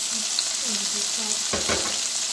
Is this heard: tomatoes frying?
yes